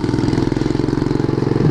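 A Honda Mirage 250 motorcycle engine idles close by, a steady low, even pulsing throb with no talk over it.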